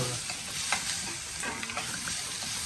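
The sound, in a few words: frying onion and garlic in a pan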